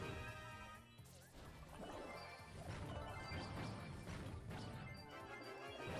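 Frank's ultimate smash attack in the Brawl Stars mobile game lands with crashing, thudding impacts amid dense, busy game effects and music, continuous and fairly quiet overall.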